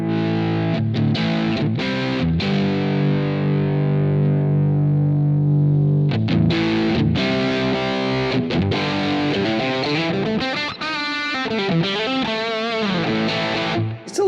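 An electric guitar plays through a Quad Cortex capture with extra gain, giving distorted, saturated chords and riffs with sustained ringing notes and faster picked passages, loud and continuous without talk.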